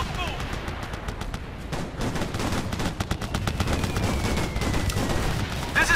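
Sustained Operation Flashpoint: Red River combat gunfire, dense overlapping rifle and machine gun bursts of steady loudness throughout, with a soldier's voice talking amid the shooting.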